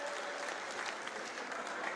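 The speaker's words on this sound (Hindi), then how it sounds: "सब हरीश चौधरी जी का तालियों की गड़गड़ाहट से स्वागत करें" An audience applauding at a political rally to welcome Harish Chaudhary, a dense, even wash of clapping from a large crowd, continuous and fairly distant, with a faint voice underneath.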